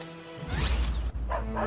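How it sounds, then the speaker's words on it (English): Several village dogs pacing in front of a hut bark in a short, loud burst of two close, overlapping barks. "he heard several dogs barking"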